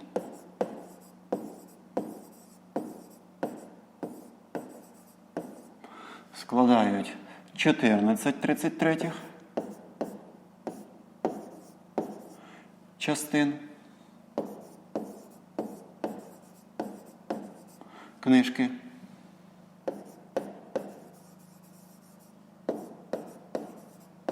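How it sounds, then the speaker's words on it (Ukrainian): A pen scratches steadily across paper in regular short strokes, close and clear, with a few denser scribbling bursts while a voice talks alongside. "Записуємо 14 сторінок."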